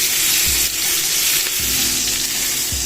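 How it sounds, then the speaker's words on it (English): Steak, onions and courgettes sizzle loudly in beef fat in a hot pan, a dense continuous frying hiss close to the mic with a few soft stirring bumps and no voices. "You get your onions, you get your courgettes, and you cook it in the beef fat."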